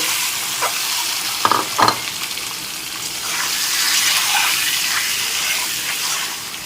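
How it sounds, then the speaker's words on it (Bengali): Eggs fry in hot oil in a kadai over a high gas flame while being stirred, with a steady sizzle broken by a few sharp spatula knocks. "ডিমগুলোকে নেড়ে চেড়ে ভেজে নিচ্ছি"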